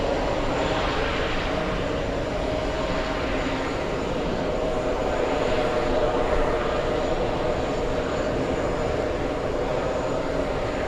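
Lufthansa flight 419, an airliner passing over JFK, gives a continuous loud engine roar and rumble overhead that holds steady without a break.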